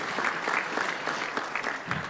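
Applause from an audience at a flight simulation expo after an award for a Northwest 727, a steady dense clatter of many hands clapping throughout, moderately close and without talk over it.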